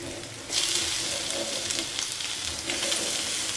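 Egg and tomato frying in a hot pan, a bright hissing sizzle that jumps up suddenly after a quiet start, then holds steady and close with slight surges, no voices.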